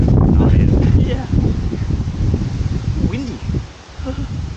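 Wind gusting outdoors on a walk in Japan, loud broadband rushing and buffeting the microphone, with people talking under it.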